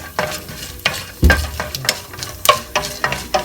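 Dal, cumin seeds and cashews fry in hot oil while a spoon stirs and scrapes the pan, giving sharp rhythmic clacks over a light constant sizzle, up close and with no voices.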